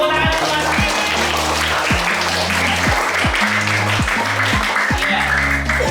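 Classroom applause from students, continuous clapping heard over a repeating low musical beat in the background, steady and fairly loud throughout.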